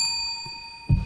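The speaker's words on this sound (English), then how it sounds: "We have a bell, which will ding when your time is up." A timer bell at a Florida state representative candidate forum gives a single clear ding near the end, loud and close against a quiet room with steady high ringing tones.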